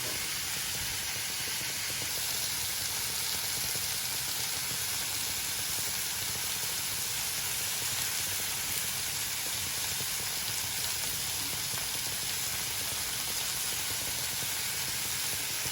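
Jerk pork sizzling on a grill, a steady, even hiss that holds for the full stretch with no voices over it.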